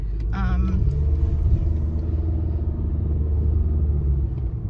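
A car pulls away from a stop with a jolting, uneven start, its low engine rumble and road noise steady and close throughout, with a brief creak early on.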